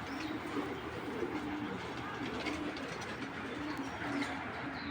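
Racing pigeons kept as breeding stock coo softly and steadily throughout, a low repeated murmur with a faint rumble in the background.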